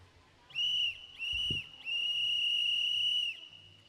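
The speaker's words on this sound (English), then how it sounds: "Whistle." A starting whistle at a swimming race at a Canada Day meet sounds three times: two short shrill blasts, then a long sustained one, loud and clear over faint poolside ambience.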